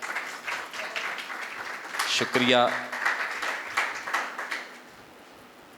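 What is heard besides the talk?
audience applause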